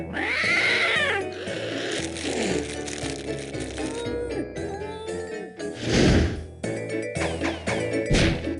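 A cat yowls as a sound effect in the You Don't Know Jack trivia game. The loud, wavering caterwaul opens the clip, then is followed by thwacks, crashes and other busy game sounds.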